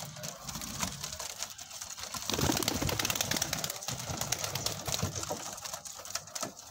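Hungry pigeons in a coop flap and flutter restlessly, wingbeats rustling close by with soft cooing underneath, growing louder midway and continuing without talk.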